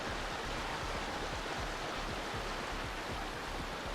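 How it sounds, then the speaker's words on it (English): Game waterfall sound on the StarCraft II map Crimson Court, a constant broadband rush of falling water, even and unbroken, with no voices over it. "Is that a waterfall?"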